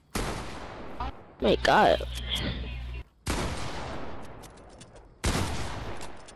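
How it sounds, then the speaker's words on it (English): Shotgun blasts from the Fortnite video game ring out as repeated loud bursts in several separated clusters, with a man exclaiming over the middle burst. "Too many shotgun shots for this."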